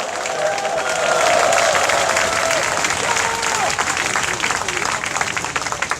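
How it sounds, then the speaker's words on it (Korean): A crowd at a rally in front of the National Assembly against a same-sex marriage constitutional amendment claps loudly and continuously, with some cheering and a speaker's voice rising over the applause. "여러분의 지지로 이렇게 건강한데 더 잘 마칠 수 있도록 다시 한번 큰 박수 부탁드리겠습니다."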